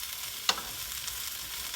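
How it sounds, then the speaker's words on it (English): Bok choy stems and shiitake mushrooms sauté in oil with a steady, moderately loud hiss and sizzle, broken by one sharp stir or clatter near the start. "we're going to just saute this for a couple of minutes just to soften it up"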